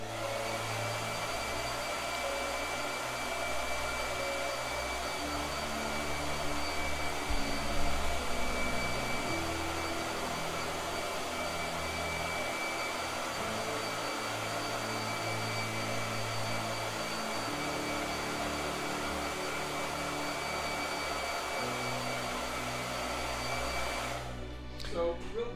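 A blow dryer whirs steadily and fairly close for the whole stretch, a constant airy hum with a low motor drone beneath it, ending with a brief click near the end.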